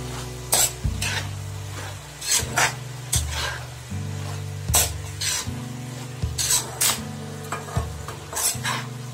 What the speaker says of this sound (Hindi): गाजर पक गई है, इसे थोड़ी देर ऐसे भूंज लेंगे।